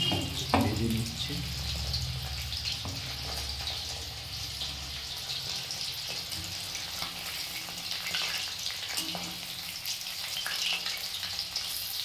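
Ingredients frying in a pan for egg fried rice, a steady hiss of sizzling oil running throughout with occasional stirring knocks and some background noise.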